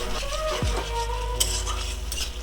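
Cashew paste thinned with water goes into a pan of frying spices for paneer masala, giving a short low sizzle with light clinks and scraping of a utensil against the pan.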